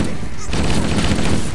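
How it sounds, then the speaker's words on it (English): Gunfire bursts from a rocket launcher in the video game Halo Combat Evolved, a loud, dense crackle of explosive weapon fire that kicks in abruptly partway through and continues to the end. "I am going to use these rocket launchers, put them to good use"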